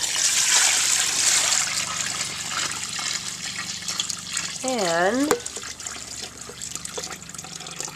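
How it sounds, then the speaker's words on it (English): Water pours from a kettle into a tank holding soaking deer rawhide, a broad splashing gush that runs steadily for about five seconds, then gives way to quieter trickling and dribbling, with a brief spoken word. "I'm going to use 2 hands to lift this kettle and pour it in"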